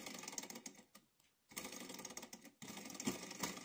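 A mini alpha-type Stirling engine heated by an alcohol burner runs with a fast, faint mechanical clatter that pauses once briefly and then picks up again, with no voices heard.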